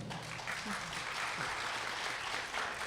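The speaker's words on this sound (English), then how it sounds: "I just want to give a round of applause for both panels" Applause from a crowd at a domestic violence panel event in Harris County, steady and fairly loud throughout, with dense overlapping claps and no pauses.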